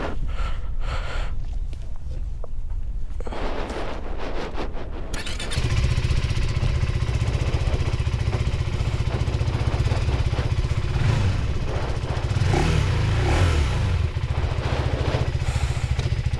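A 2025 KTM 390 Adventure R engine idles with faint clicks, then at about five seconds the single-cylinder motor pulls away into a loud, steady riding drone with rises in revs, close to the mic and without talk.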